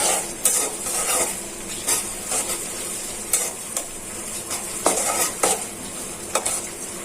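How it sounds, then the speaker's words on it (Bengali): Onions frying in hot oil while being stirred, with repeated spoon scrapes and clanks against the pan at an irregular pace over a steady low sizzle. "এখন পেঁয়াজটা নেড়ে চেড়ে ভালো করে ভাজা হয়ে যায়"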